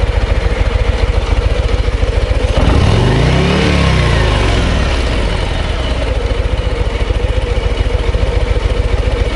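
A Harley-Davidson Road Glide ST bagger with its 117 V-twin engine revs up loudly and close, the pitch sweeping up and back down before settling into a steady, throbbing idle.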